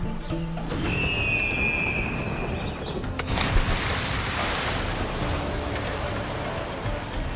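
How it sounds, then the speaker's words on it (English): Ocean waves wash steadily while sailing a ship in Assassin's Creed 4 Black Flag, a broad continuous surf noise with a brief tonal whistle early on and a swell of spray around the middle, no talking. "So now that we're back in the ocean"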